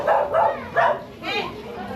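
A dog barks and yips several times in quick short bursts, close and fairly loud, with some whimpering tone mixed in and faint voices around it.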